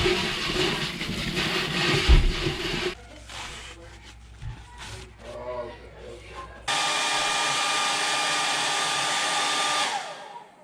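A hair dryer blows with a steady whooshing roar, cuts out for a few seconds of quieter clattering handling noises, then starts up again.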